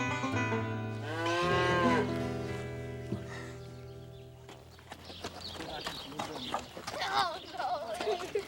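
Cattle on a roundup let out a loud, drawn-out moo up close, followed by hoof clip-clops and outdoor bustle as a person speaks over the later part.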